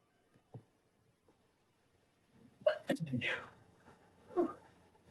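A single quick sneeze bursts out at close range in a quiet indoor room, followed by a short second burst, with faint clicks and rustles before it.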